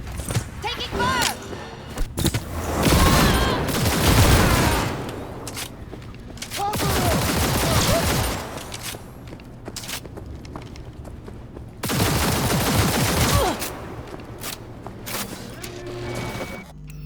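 Loud bursts of gunfire and rapid volleys in the PC video game Cyberpunk 2077, coming in several long, dense stretches separated by calmer gaps.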